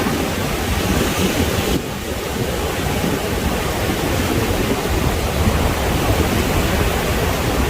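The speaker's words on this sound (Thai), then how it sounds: "ลมแรงมากต้องคอยจับตลอดเวลา" Strong wind gusts across the open shore of Pranburi beach as sea waves wash in, a steady, loud rushing roar that buffets the microphone with no voices.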